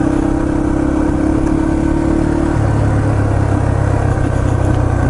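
Loud, close engine note from a Yamaha TT-R230 dirt bike on a trail, a continuous buzzy exhaust drone whose pitch steps down partway through.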